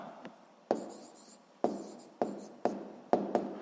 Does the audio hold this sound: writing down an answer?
yes